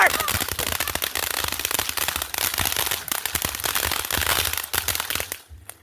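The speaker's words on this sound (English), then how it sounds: "here's our last fireworks for the live stream" New Year's fireworks exploding nearby in a dense, rapid barrage of loud cracks and pops, like firecrackers going off, with voices shouting over them before the noise fades out.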